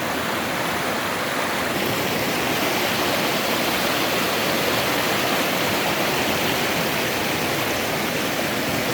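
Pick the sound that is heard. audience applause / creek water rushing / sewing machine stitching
creek water rushing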